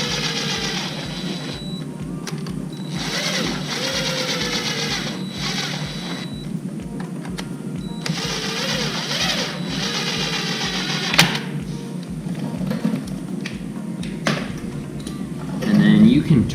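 Impact driver running clutch bolts down on a 400ex ATV, heard close up as a rapid, steady mechanical rattle that continues through the whole stretch, with a louder burst near the end.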